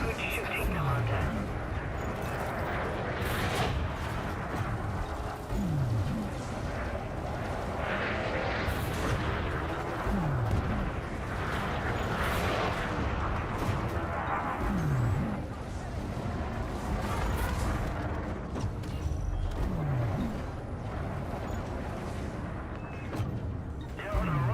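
Ship weapons fire repeatedly in a space combat video game, booming bursts and whooshing shots recurring every few seconds over a dense, constant din of engine rumble and effects, with voices speaking over the action.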